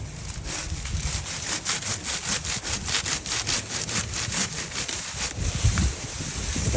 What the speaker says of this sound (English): Start sawing some of this.